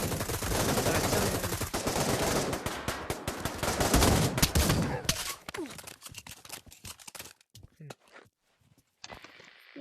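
Rapid shotgun and automatic gunfire in Pavlov VR, dense and loud at first and then thinning into scattered shots with quieter gaps, while a voice talks over the action.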